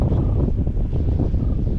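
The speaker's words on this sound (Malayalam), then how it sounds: "കാറ്റും കൂടുതൽ" Steady, low buffeting wind rumbling against the microphone, continuous and fairly loud throughout with no talking.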